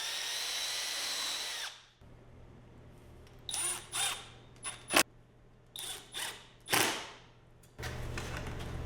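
A power drill drives screws into the track of a woodworking drill press table, starting with one long whine, then a string of short trigger bursts with whirring revs and pauses between them.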